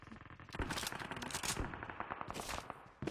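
Rapid automatic gunfire crackles in an online shooter game, close and fast bursts of repeated shots rattling almost continuously, with a brief gap and a final shot at the end.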